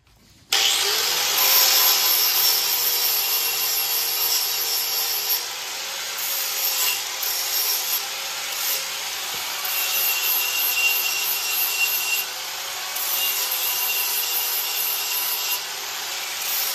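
Metal on a 1970 C10 truck being cleaned up ahead of welding: a loud, continuous abrasive grinding hiss that begins abruptly, holds steady for over fifteen seconds and dips briefly a few times, close by, with no talk.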